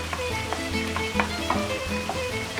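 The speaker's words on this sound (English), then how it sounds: "In 2 separate pans, add extra virgin olive oil and a little salt and saute the peppers and eggplant." Peppers and eggplant sautéing in extra virgin olive oil with a little salt in separate pans, giving a steady close sizzle with soft intermittent stirring scrapes.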